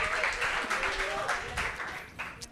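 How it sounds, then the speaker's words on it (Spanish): Audience applause at a live comedy show rolls as a steady, fairly loud wash for the whole stretch, with voices talking over it. "Aplausos, por favor, para la mujer"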